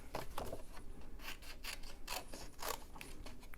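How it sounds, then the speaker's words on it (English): Paper snips cut around a stamped card image by hand, giving repeated short crisp snipping and rasping strokes at close range with no voices. "We're just going to edge around it with the scissors until we cut it out."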